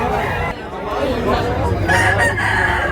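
A stag rooster crows at a live bird market in Tabunok, Talisay, Cebu, one loud close call rising over the chatter of nearby people.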